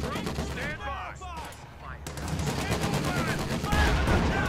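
Mortar blasts and rattling gunfire from the strategy game Company of Heroes 2: Ardennes Assault, a dense, continuous barrage of booms and shots with heavier impacts near the end, mixed with in-game voices and whistling effects.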